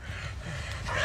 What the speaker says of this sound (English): Keep your distance from the dog.